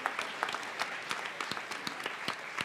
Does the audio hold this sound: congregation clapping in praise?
yes